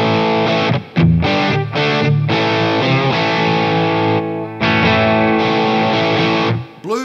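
Electric guitar through a Blues Driver overdrive into a Dunlop Cry Baby Junior wah, playing loud sustained distorted chords and notes with brief gaps and sweeping tone changes, alone with no voices.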